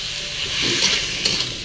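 Bitter gourd and potato coated in spices, turmeric and salt being stirred in a hot pan, a soft sizzle with scraping swells of a spatula, close and brief.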